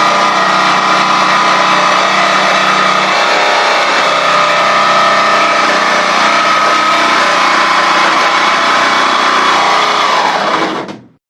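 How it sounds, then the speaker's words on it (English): A jigsaw cutting a hole through the ceiling of an Astro camper van, a loud, continuous, close buzzing saw rasp that holds steady for about eleven seconds and then stops abruptly. "This is the jigsaw cutting out the hole in the ceiling"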